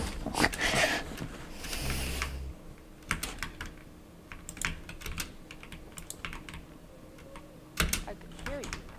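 A Steelseries Apex Pro mechanical keyboard clatters under quick Fortnite inputs: a loud burst of keys at the start, then scattered crisp close clicks and short flurries, with a faint voice murmur and some game sound beneath.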